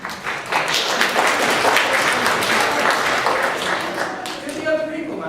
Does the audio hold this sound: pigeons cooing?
no